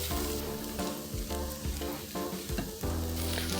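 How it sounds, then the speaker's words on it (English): Garlic dropped into hot oil in a pan while making masala for Kerala-style chicken kondattam, sizzling loudly and steadily up close with some light stirring, tonal background hum and no speech. "I'm going to add oil again. Now I'm going to add garlic."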